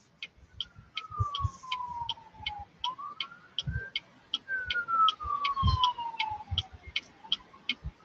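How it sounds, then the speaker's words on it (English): An ambulance siren wails in long rising and falling sweeps, heard from a car during winter driving, with a steady ticking and occasional low thumps underneath. "Another ambulance."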